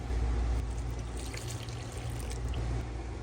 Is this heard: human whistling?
no